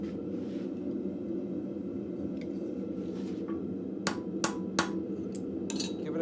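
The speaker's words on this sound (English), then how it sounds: "Give it a tap with the hammer" Three or four sharp metallic taps from a hammer striking metal in a blacksmith forge ring out over a constant low roar of the forge fire, spaced about half a second apart.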